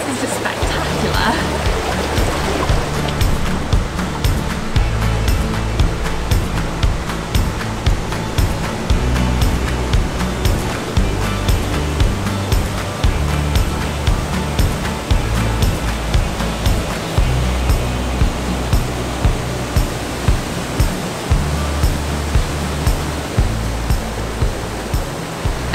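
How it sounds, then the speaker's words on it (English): A river and stream roar through Lydford Gorge on Dartmoor, a loud continuous rushing of water heard close for the whole stretch, with irregular heavier surges and some low rumbling thumps underneath. "the roaring of the river, the roaring of the stream"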